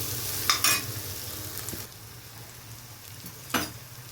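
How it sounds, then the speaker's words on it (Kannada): Eggs cracked into a pan of tomatoes and ondelaga greens on a low flame for egg bhurji, giving a soft, steady sizzle broken by a couple of sharp scraping clatters, with no talking. "ಸ್ಟವ್ ಸಣ್ಣ ಮಾಡಿಕೊಂಡು ಈಗ ಮೊಟ್ಟೆ ಹೊಡೆದಾಕಿ."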